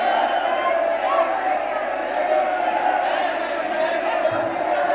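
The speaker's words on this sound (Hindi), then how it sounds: "भक्तों भीड़ उमड़ रही है मंदिर में आप देख रहे हैं।" Crowd of devotees at the Khatu Shyam temple fair: a dense, steady roar of many voices and chanting, continuous and loud throughout, with close speech over it.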